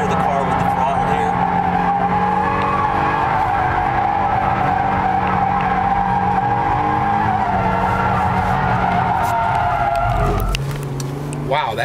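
A 2010 Hyundai Genesis Coupe drifting at a launch event, its engine droning hard while the tires squeal continuously for about ten seconds before the slide ends and the revs drop.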